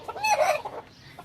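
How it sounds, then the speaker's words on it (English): Farmyard chickens, roosters with hens, give a loud close cluck and squawking call followed by softer scattered clucks, no voices over them. "My roosters like the ladies."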